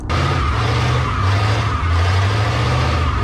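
Rat rod nicknamed Wheel Hop Wilma doing a burnout, tires squealing loudly over a deep, pulsing engine drone that holds steady for a few seconds, with no talking.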